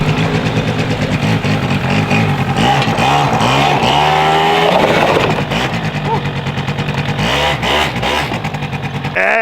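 A small Eton 90 ATV engine runs close by with a buzzy, motorcycle-like tone, revving up and easing back on a lawn with a mulch bed; no talking is heard.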